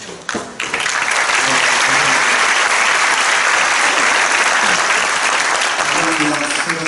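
Loud, sustained applause of thanks fills a large hall at a university president's inauguration ceremony, starting after a brief pause and holding dense and steady throughout.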